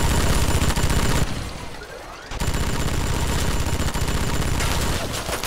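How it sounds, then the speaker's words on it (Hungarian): Rapid gunfire bursts rattle through a Fallout 3 firefight, a loud barrage that cuts out briefly for a quieter gap before the dense shooting resumes and continues to the end. "mi ez a nagy lövöldözés?"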